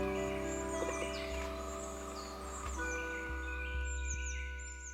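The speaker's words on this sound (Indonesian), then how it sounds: "Mereka adalah burung-burung anis" Indonesian anis thrushes sing in the wild, clear melodious whistled phrases and chirps over a steady background drone of insects or ambient hum, with occasional soft knocks nearby.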